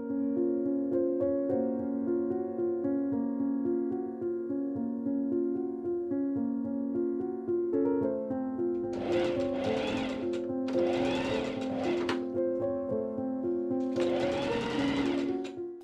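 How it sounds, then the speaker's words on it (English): A sewing machine runs gathering stitches along the back waist of a linen wrap skirt, steady machine hum over a music bed, with three louder bursts of fast stitching in the second half. "I machine sew gathering threads to the back waist of the skirt"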